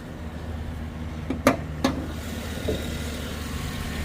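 A 2007 Chevy Suburban engine idles steadily after an intake manifold gasket repair, a smooth continuous low rumble with a couple of brief sharper knocks partway through.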